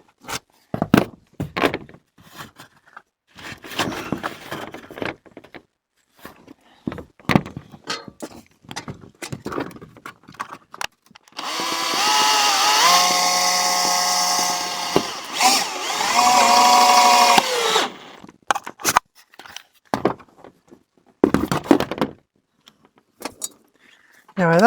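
A power drill drives screws into timber cladding on a shed under trees, with a few seconds of whirring bursts that rise and stop between stretches of someone talking nearby.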